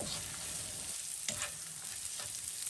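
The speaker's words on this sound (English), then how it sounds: "I'm just going to fry that for a couple minutes on low heat, saute it" Chicken sautés on low heat in a pan, giving a constant gentle sizzle broken by a few sharp scraping clicks of stirring.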